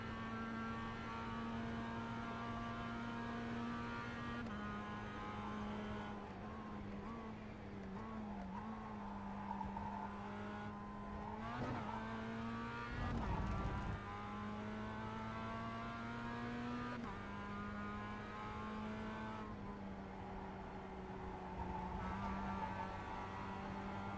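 A Mazda MX5 or Toyota GR86 race car laps a track with a sustained engine drone that rises and falls as gears change and the driver lifts off, heard steadily from inside without talk.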